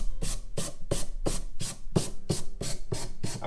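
Rhythmic back-and-forth rasping of 320–400 grit sandpaper on wood along a guitar fret bevel, about eleven even strokes in quick steady succession, close and fairly soft, with no talking.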